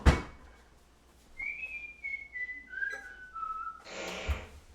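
A computer plays a whistling fart sound effect: a thump, then a series of descending whistled tones stepping downward in pitch, ending in a short noisy burst, heard alone without talk.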